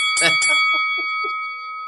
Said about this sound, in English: That's the last bell around these parts.